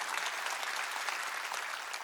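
A church congregation claps together during a service, giving dense, even applause that fills the room at moderate volume, with no voices standing out.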